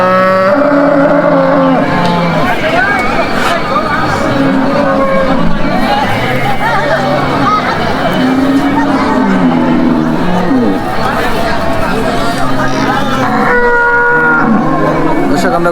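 Cattle, including Sahiwal, local and crossbred young bulls, moo at a busy village cattle market in Hazratpur, Bangladesh. Low calls rise repeatedly through loud, constant crowd chatter and bargaining voices.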